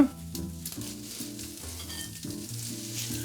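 Bacon frying in a pan, a close crackling sizzle with bursts of spitting fat and a faint rhythmic clatter underneath, steady throughout.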